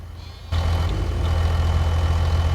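A truck engine idles in a farming video game, starting with a sudden jump to a loud, steady low rumble that holds without change to the end.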